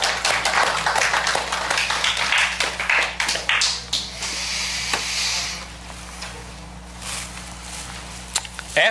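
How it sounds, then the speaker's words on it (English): A standing church congregation claps together after a Bible reading. Dense, crisp applause rises at first, then thins out and fades into scattered claps and quiet, with no talking. "If we'll stand and applaud the reading of God's word."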